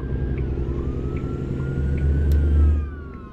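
A modded police siren wails in American Truck Simulator over the steady rumble of a truck running a Cummins engine, the rising tone fairly faint beneath the loud engine drone.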